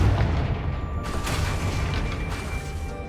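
Confringo fire spell bursts in Hogwarts Legacy, two low booming blasts about a second apart with a rumbling crackling tail, moderately loud and alone.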